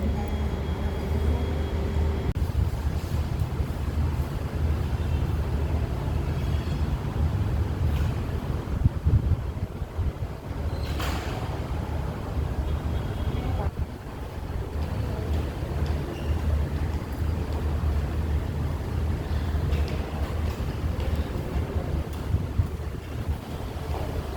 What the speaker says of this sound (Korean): 바람